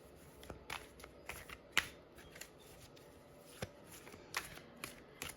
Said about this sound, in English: I want to pull one more card for some reason